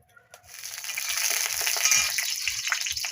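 Fish frying in hot oil while cooking a Bengali dish, a steady close sizzle and crackle that swells after the first half second and holds loud to the end, with no talking.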